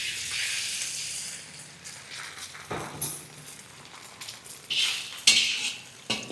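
A utensil stirs egg into roasting chicken in a pan, making intermittent scraping and clinking against the metal with a soft sizzle beneath, moderately close, no talking.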